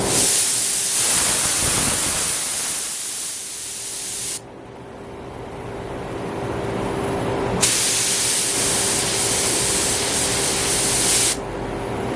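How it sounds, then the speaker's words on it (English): Steady, loud hiss of a spray gun in a paint booth running in long continuous passes over a K-Series transmission, broken by brief pauses between bursts, with no talking. "Let's get back to the booth and get to spraying this transmission."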